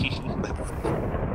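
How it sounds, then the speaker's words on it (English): Thunder from the weather in Minecraft gives a deep, steady rumble that rolls on without a break, moderately loud and close. "God, the thunder."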